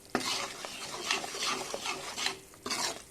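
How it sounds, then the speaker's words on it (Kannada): Gram flour roasting in ghee for Mysore pak is stirred with steady scraping strokes against the pan, a soft sizzle running beneath the repeated rasping sweeps, close and clear with no voices. "ನೋಡಿ, ಹುರಿತಾ ಇದ್ದೀನಿ. ಅದು ತುಪ್ಪ ಮತ್ತು ಕಡಲೆ ಹಿಟ್ಟು ಸರಿಯಾಗಿ ಮಿಕ್ಸ್ ಆಗಿ"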